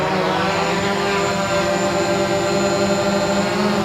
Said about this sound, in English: Let's go ahead and take off and see what happens.